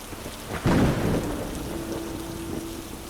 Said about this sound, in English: let the sound of the rain guide you into the story